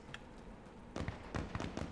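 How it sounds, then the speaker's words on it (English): Several quick popping shots crack faintly in the distance in the video game Insurgency: Sandstorm, a short irregular burst over a low background hum. "And I hear more gunfire."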